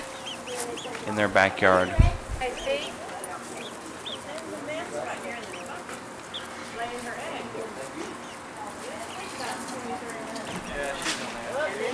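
Backyard hens in an urban coop in East Dallas cluck and squawk close by, with a louder burst of calls early on. Lower clucking continues under a person speaking.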